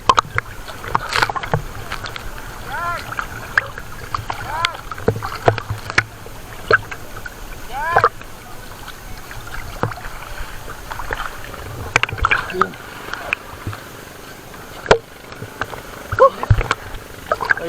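A small boat (bangka) on the water near Subic Beach in Matnog, Sorsogon, giving a steady near wash of water and hull noise with scattered knocks and splashes, while occasional voices speak in the background.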